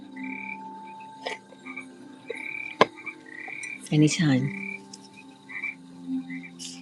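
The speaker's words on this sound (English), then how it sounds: "Love the frogs." Frogs croak in a steady, repeated chorus at night, with one louder rasping croak standing out, while a person speaks briefly and softly.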